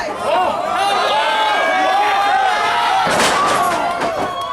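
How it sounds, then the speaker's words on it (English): A wrestling crowd cheers and roars in a loud arena, a sustained mass of voices that swells with a burst of noise near the end, with a commentator talking over it. "This crowd's loving it."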